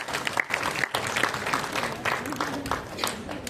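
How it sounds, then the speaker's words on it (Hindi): Dense, sustained applause from an audience at a board exam results celebration, steady and loud throughout with scattered cheers and voices mixed into the clapping. "तालियों की गड़गड़ाहट में कमी नहीं होनी चाहिए।"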